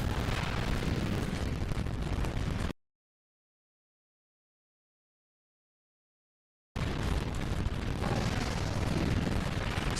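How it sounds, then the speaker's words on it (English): Heavy explosions rumble across a spaceship as its sections are blown apart in the PS2 game Ratchet and Clank, a loud continuous roar that cuts to complete silence for about four seconds and then resumes. "you're just trying to blow up like 4 different sections of this ship here"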